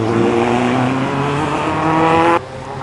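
A race car accelerates around a circuit, the engine howling loud and close with steady harmonic revs that climb briefly before cutting off sharply near the end, no talking.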